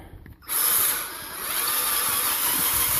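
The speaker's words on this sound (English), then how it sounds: "Remember, slow. You go fast, you're gonna burn your bit up." A drill bores slowly into a broken exhaust manifold bolt, a steady high whine starting abruptly after a brief quiet moment and holding loud and close to the end.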